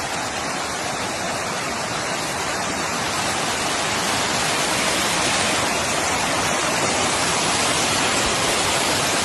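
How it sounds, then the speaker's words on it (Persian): Salty water gushing out of a mountain in the desert, a loud, steady, close rush of falling water that roars without a break and has no voices over it. "دل بیابون یه همچین کوهی وجود داشته باشه که این همه آب بیاد بیرون، اونم نمک."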